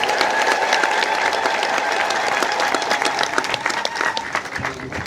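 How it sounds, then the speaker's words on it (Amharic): A church congregation claps in a continuous loud wash while sustained high trilling ululation tones ride above the applause. The sound thins slightly near the end. "ፈቃዳችሁን በእልልታና በጭብጨባ ግለጹልን"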